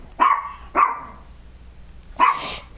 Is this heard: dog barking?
yes